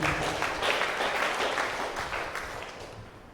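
A church congregation at a Malayalam prayer retreat claps together in thanks, a dense, steady wash of many hands that carries on at even loudness and slowly fades toward the end, with no voices over it.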